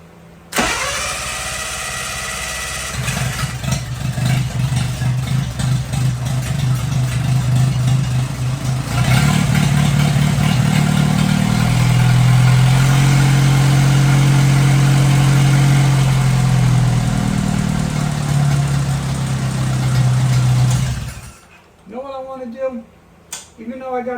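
A 1957 Hercules Power four-cylinder engine cranks over, catches and runs steadily for about twenty seconds, a loud close low drone with a surge partway through, then shuts off as a voice talks briefly.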